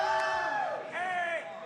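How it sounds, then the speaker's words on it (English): The Super Mario crew cheers at a classic Tetris world championship, a crowd of whooping voices with two rising and falling yells, moderately loud and close, in a brief burst. "You can see the Super Mario crew over there cheering them on"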